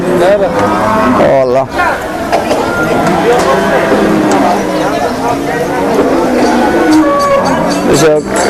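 Deep water buffalo moos and bellows rise over a loud, busy livestock market crowd with constant chatter and background noise.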